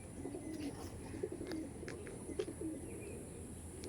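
Andhra pigeons, a male and female pair, coo softly in repeated low rolling calls at close range, with faint chirps and background hum throughout.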